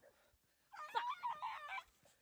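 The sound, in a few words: dog whimpering at a dog park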